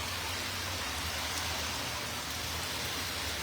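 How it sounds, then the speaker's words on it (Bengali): Heavy rain pouring steadily on a New York street with occasional gusts of wind, a dense continuous hiss without pause and no talk. "চমৎকার বৃষ্টি এই মুহূর্তে আমরা দেখছি, ফাঁকে ফাঁকে একটু বাতাস হচ্ছে বৃষ্টির সাথে সাথে"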